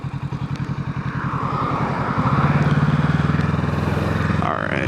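A Kawasaki Ninja 650 motorcycle being ridden, its engine pulsing and rising in pitch through a gear, then settling into a steady louder drone before a brief shift near the end, close and prominent.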